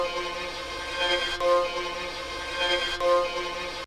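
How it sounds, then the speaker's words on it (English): A looped violin phrase plays in a music production, sustained bowed tones repeating twice with a steady rhythm, clear and fairly quiet. "I have this violin from the live loop."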